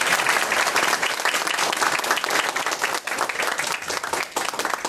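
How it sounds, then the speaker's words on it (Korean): An audience applauds after a lecture on Islam, with loud, sustained, dense clapping from a full room that stays steady from start to finish. "다시 한번 우리 두 번 박수로"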